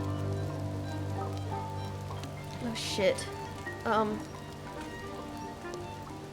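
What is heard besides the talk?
rain falling in video game The Midnight Walk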